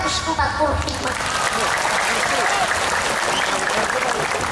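A crowd claps loudly and continuously for an Islamic preaching performer, a dense, even wash of applause that carries through the whole stretch, with faint voices and some tonal sound mixed underneath.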